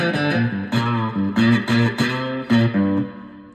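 An electric guitar is played with a brass slide through distortion, grinding and gliding on the low strings in an improvised run of sustained, gritty notes, loud and close with no talk.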